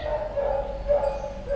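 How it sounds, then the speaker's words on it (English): A beagle barks and yips indoors in short repeated bursts, fairly close and moderately loud, with a whining edge between barks. "that's my dog barking"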